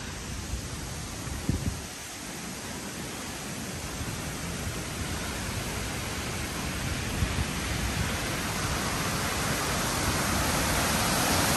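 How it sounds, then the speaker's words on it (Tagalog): Guide Falls in Tasmania pours down as a broad, steady roar of rushing water, loud and continuous throughout with no speech. "So that is the falls, guys."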